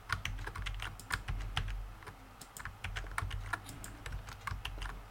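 Rapid, steady keystrokes clatter on a computer keyboard while code is typed for a Laravel 9 e-commerce project. The clicks are close and fairly quiet, with no talking.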